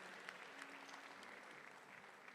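An audience claps together at a Sherie Silver Foundation gathering where children performed, a faint, distant-sounding patter of many hands that stays even throughout the clip, with no voices heard.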